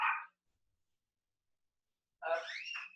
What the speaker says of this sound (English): We hear Cheeky barking